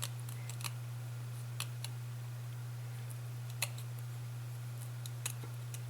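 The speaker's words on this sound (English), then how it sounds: "You should be able to feel the point of your scissors rubbing against the back of this woven fabric." Scissors cut through the woven fabric backing of faux fur, making sparse, faint, crisp snips over a steady low hum.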